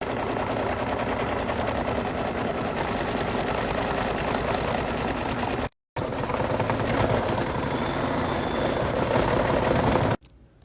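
A steady, fast mechanical whir of an embroidery machine stitching runs continuously, with a brief cut around the middle and a drop-off at the very end.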